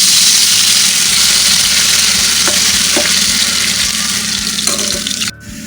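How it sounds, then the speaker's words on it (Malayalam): Potatoes fry in hot oil for mandi, making a loud, continuous crackling sizzle close by, punctuated by a few sharp clicks of a utensil against the pan. "നമ്മുടെ ഉരുളക്കിഴങ്ങ് നല്ലവണ്ണം അങ്ങനെ മുരിഞ്ഞ് വരുന്നുണ്ട് കേട്ടോ"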